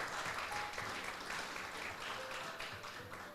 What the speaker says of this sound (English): you deserve to give yourself a round of applause